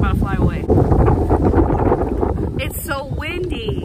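Gusty wind in Florida buffets the microphone in loud low rumbles while a person talks over it.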